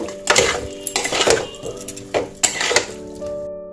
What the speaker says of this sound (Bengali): আলু ফুলকপিও এর সাথে ভালো করে কষে নেব।